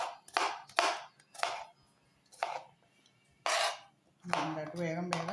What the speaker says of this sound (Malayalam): നമുക്ക് ചെറിയ ഉള്ളി അരിഞ്ഞെടുക്കാം